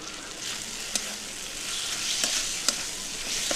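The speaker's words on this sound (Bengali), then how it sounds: "মশলাটা ভালো করে ভেজে নিচ্ছি" Ginger-garlic spice paste with slit green chillies frying in oil for a pointed gourd and prawn curry, a close, steady sizzle broken by a few sharp spatula scrapes and taps.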